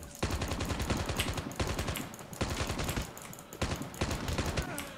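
Rapid bursts of automatic gunfire crackle in several sustained volleys, loud and close, with short pauses between them amid Call of Duty Mobile Battle Royale action.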